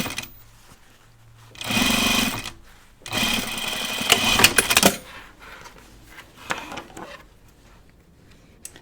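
A home sewing machine runs in two short bursts top stitching a denim shield on a pair of jeans, close and fairly loud, followed by softer clicks and handling noise.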